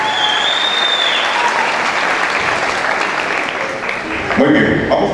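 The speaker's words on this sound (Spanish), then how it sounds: "Un aplauso fuerte nuevamente para el grupo La Che" Loud applause from a dance festival audience for the group La Che, a thick continuous wash of clapping, with a voice briefly cutting in near the end.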